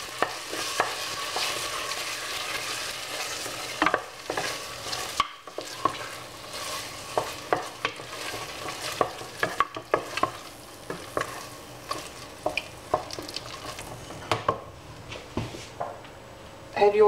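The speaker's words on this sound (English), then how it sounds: "Stir that through." Meatballs of beef and pork stirred through a frying pasta sauce in a pan, a steady sizzle under repeated scraping and clinking strokes of the spoon, close and moderately loud, with a voice speaking over it.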